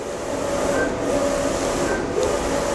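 A WER A1 ET6090 UV printer runs while printing on poker chips, giving a steady mechanical whir and hum with faint tonal whines throughout, close and continuous.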